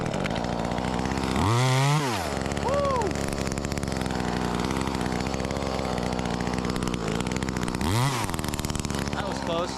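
A cheap knock-off of an Echo 2511T top-handle chainsaw runs steadily through branches, its engine droning loud and close throughout, with two sharp rev swells rising and falling early and near the end.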